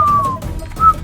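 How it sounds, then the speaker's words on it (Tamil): A man whistles two short tonal notes, one a long slightly falling note and then a brief higher one after a pause, close and fairly loud over faint room noise. "விசில் அடிக்கிறத நிப்பாட்டு"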